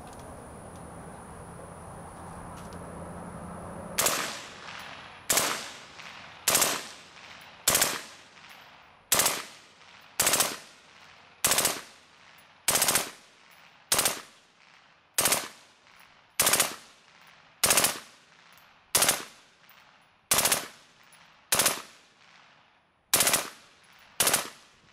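A rifle fitted with a Magpul PMAG D-60 drum magazine and loaded with 55-grain ammunition fires on full auto outdoors. A quiet lead-in gives way to about seventeen loud, sharp reports at a steady, evenly spaced rhythm.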